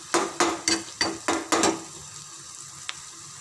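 Onions browning in a pan for roasted eggplant bharta get six quick, evenly spaced scraping strokes from a spatula. The strokes are close and fairly loud, then give way to a faint sizzling hush with one small tap.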